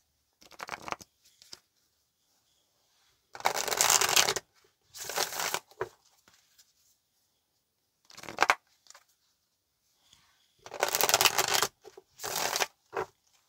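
Tarot cards being shuffled by hand in several separate bursts of riffling and flicking, each lasting a second or two, with quiet pauses between them and no talking.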